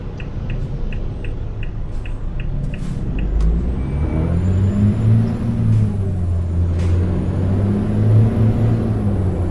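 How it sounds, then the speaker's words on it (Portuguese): An 18-tonne truck's air brake hisses and releases in several sharp bursts as it comes to a stop in traffic, with its deep engine rumble running loud and close beneath. "O caminhão parou ali, hein?"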